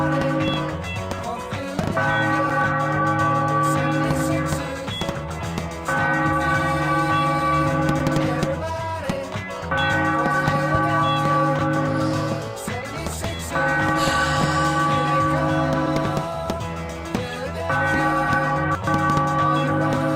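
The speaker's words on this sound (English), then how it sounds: "Ring the bell, Philadelphia!" A bell rings in repeated bursts of sustained, ringing tones at a Philadelphia 76ers basketball game, loud and resonant, pausing briefly between peals.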